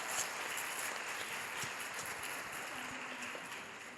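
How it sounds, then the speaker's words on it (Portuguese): Church congregation applauding: a faint, steady, rain-like crackle of many hands clapping, heard from some distance and holding evenly to the end. "Vamos aplaudir, não vamos deixar ele aplaudir sozinho"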